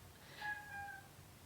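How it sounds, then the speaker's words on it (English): A house cat meows once, a drawn-out, fairly close call of about half a second over steady background hiss, with no talking. "cat meowing."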